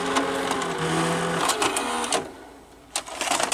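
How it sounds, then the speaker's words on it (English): Broken Quasar VH5471-K VCR with a suspected capstan motor fault spinning its tape too fast, a close whirring mechanical drone with clicks and tonal hum that drops away briefly before resuming. "The tape is like turning pretty fast"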